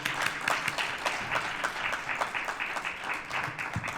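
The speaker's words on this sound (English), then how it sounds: "Let's give Commissioner Dole another hand clap" Audience applause for a commissioner at a health fair and symposium, moderately quiet, steady rhythmic clapping from a modest crowd.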